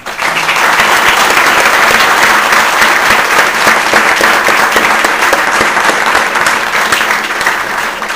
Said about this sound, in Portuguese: Quero então uma salva de palmas para ela.